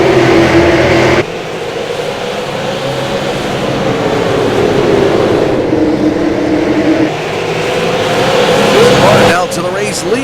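Super late model race cars roar off at the green flag on a short oval, a dense blend of engines rising and sweeping past under a race announcer's voice.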